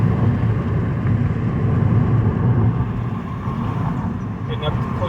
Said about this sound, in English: The engine's running great.